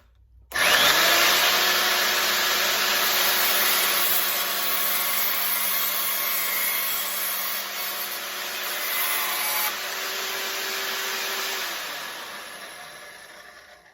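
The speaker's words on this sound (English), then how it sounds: "I'm gonna take this over to the bandsaw and cut this little section out" A bandsaw cuts a small section from a G10 knife handle scale: a loud, steady, high whine with a constant motor hum runs nearly fourteen seconds, easing slightly near the end before stopping.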